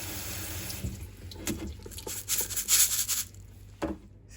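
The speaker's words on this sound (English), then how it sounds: "try to rinse it even briefly to remove any dust or mold or dirt on it" Dry red beans rinsed under a running kitchen tap, water splashing and rushing steadily with grainy rubbing and swishing that swells in the middle before easing off.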